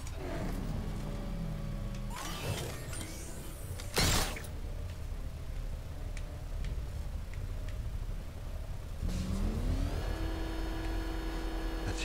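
A car in the video game Batman: Arkham Knight drives with a continuous mechanical drone, its engine whine rising as it accelerates near the start and again near the end, with a sharp bang midway.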